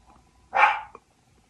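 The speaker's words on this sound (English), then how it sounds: "And that's my dog." A single dog bark, fairly close and moderately loud, followed by a faint short yip, with quiet room background and no talking.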